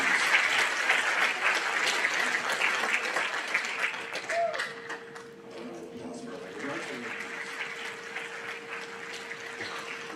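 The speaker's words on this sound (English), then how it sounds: "How about a round of applause for our language arts awards?" A school auditorium audience claps for eighth-grade language arts award recipients, loud at first and then tapering into softer scattered clapping with a faint tone and background murmur.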